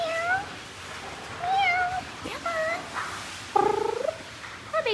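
Shelter cats meowing repeatedly in a series of distinct rising and falling calls, fairly close, with dogs barking faintly in the background; no talking.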